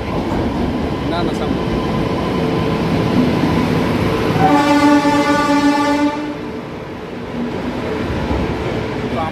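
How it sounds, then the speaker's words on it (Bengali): A passenger train pulls into an Indian railway station with a long, loud horn blast over rumbling wheels and clatter, and people speak nearby. "আমাদের ট্রেন চলে এলো"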